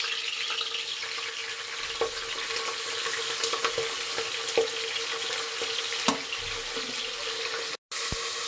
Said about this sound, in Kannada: ಇದು ಅಷ್ಟೇ ಸ್ವಲ್ಪ ಫ್ರೈ ಆಗಬೇಕು.